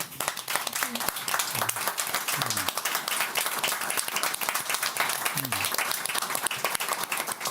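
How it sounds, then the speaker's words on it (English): An audience claps warmly after thanks at a talk on veterans and reconstruction in a war-torn society, a steady, full round of applause lasting the whole stretch with faint voices under it. "So a warm hand of applause to everyone"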